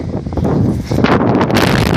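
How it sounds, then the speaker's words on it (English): Strong wind gusts outdoors roar loudly against the microphone beside a BMW E30, a dense buffeting rush that swells midway and stays heavy, with no talking. "God, it's so windy."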